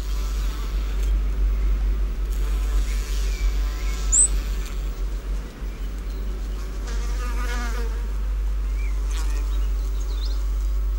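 Many insects buzz around flowers in a steady, loud, close drone that continues throughout, with individual fly-like passes rising above it.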